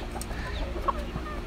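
A broody hen gives soft, scattered clucks close by, short low calls spaced over a quiet farmyard background.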